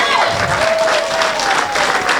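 An audience at a 90s Friends Together gathering claps through a speech, a steady patter of hands with some crowd noise and a tonal whine running beneath it.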